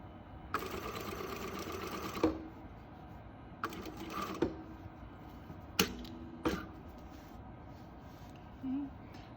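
A sewing machine stitching down a French seam on a gusset, running in three short bursts of steady mechanical whirring with pauses and soft clicks between them, close and moderately loud.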